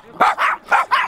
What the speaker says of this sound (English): Oh, look at here, we have a couple doggy dogs.